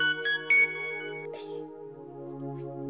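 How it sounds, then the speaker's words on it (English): A tonal electronic ring chimes a few times, sustained and ringing out, fairly quiet with a faint clatter partway through. "The phone is ringing."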